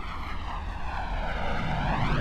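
A jet-like aircraft engine roars steadily during a brake takeoff at an air show, a loud continuous rumble with a sweeping whine that rises and shifts in pitch as it powers up and moves off.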